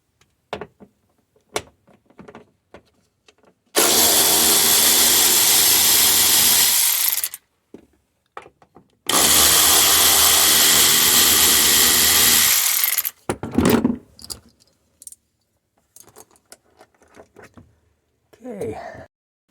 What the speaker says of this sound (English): little covers from the tie-down anchors here, and you'll be using a T40 to remove them